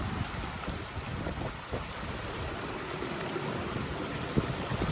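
Snowmelt water on a Utah mountain rushes in a steady, dense flowing wash, close and continuous with no talk.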